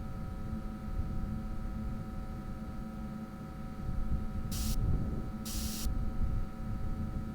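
Two short hissing bursts of spray paint in an indie video game sound over a steady droning, humming background ambience, the second burst a little longer than the first.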